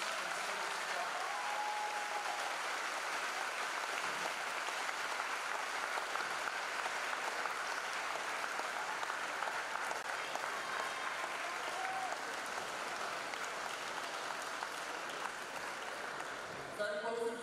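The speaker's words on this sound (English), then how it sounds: "Sarah Miller and Charlize Smith deserve a round of applause for their selfless efforts and service to others." A school-day audience at a high school event gives sustained applause, a dense, steady wash of clapping that continues for a long stretch, with faint voices mixed in beneath.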